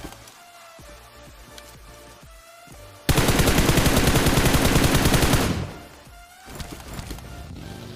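Loud, rapid automatic gunfire from a video game tears through in one sustained burst of about two and a half seconds, between quieter stretches of game ambience.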